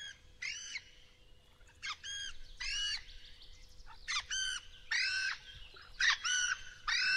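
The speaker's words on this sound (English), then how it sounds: "We're up here with the birds now." Birds chirping in the Fishing Planet fishing game, set above a river in Russia: repeated bursts of bright, harmonic calls in quick clusters, fairly close and clear over a faint low ambient hum, with no talking.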